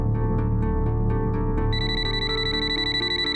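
A phone rings loudly and close in a repeating electronic ringtone pattern, its pulses shifting into a brighter sustained tone partway through, with no one speaking.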